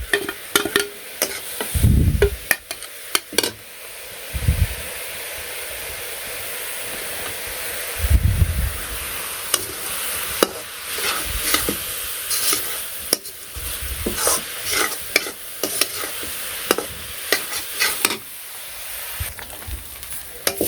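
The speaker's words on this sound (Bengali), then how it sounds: "মাছগুলোও এই যে নাড়াচাড়া দিতে দিতে একদম শাকের লগে মিশে গেছে, আর শাকটাও ভাজা হয়ে গেছে" Fish and greens fry in a pan while a spatula stirs them, with scraping strokes and thumps breaking through a steady hissing sizzle, close up and with no talking.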